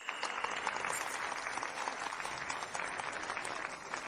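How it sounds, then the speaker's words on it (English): Wedding guests clap to welcome the bride and groom as the ceremony begins, a dense, even roar of many hands that holds steady without pause or voices. "Let's give a warm round of applause to welcome the bride and groom."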